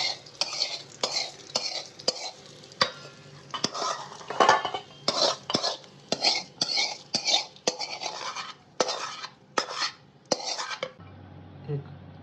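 A metal utensil stirs tempering into cooked rice for curd rice in a pan, giving quick rhythmic scraping strokes close up for about eleven seconds before stopping, with no talk.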